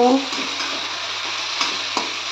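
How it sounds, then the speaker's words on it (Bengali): A little spice-rinsing water poured into frying spices for a hilsa fish in poppy-seed paste dish, then stirred: a dense, loud, continuous sizzle up close with a few light scraping stirs. "এবার এর মধ্যে আমি মশলা ধোয়া অল্প একটু জল দিয়ে দিচ্ছি, দিয়ে একটু নেড়ে নেব।"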